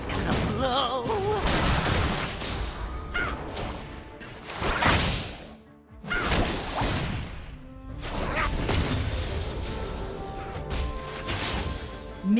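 Explosions and blasts in the mobile MOBA Wild Rift, with Ziggs hurling bombs in the dragon lane: dense overlapping booms, crashes and whooshes over game music, with a brief lull in the middle before the clatter resumes.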